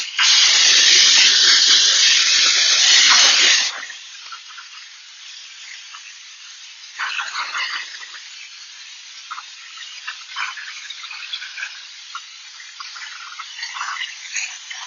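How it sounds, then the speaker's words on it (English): A pressure washer rinses degreaser off a car's underbody, a loud steady hissing spray for the first few seconds, then it cuts out and leaves softer, intermittent spraying and dripping. "after we let the degreaser sit for a few minutes, come with the pressure washer."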